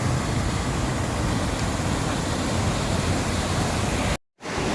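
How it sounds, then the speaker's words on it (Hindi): The Kundal Shahi waterfall roars in Pakistan as a steady, broad rush of falling water, loud and unbroken, before cutting to silence for a moment near the end. "दोस्तों ये है कुंडल शाही का वाटरफॉल, मशहूर ज़माना, वो देखें।"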